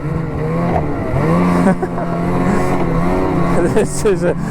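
Ski-Doo Trail Cruiser 850 snowmobile climbing a rough, rocky dirt trail, its engine droning loud and close with a steady, shifting pitch that rises and falls as the throttle changes.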